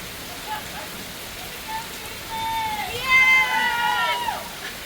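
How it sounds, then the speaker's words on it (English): Rain falls as a soft, steady hiss during a thunderstorm, while people speak and exclaim over it close by. "the sound of rain is nothing better"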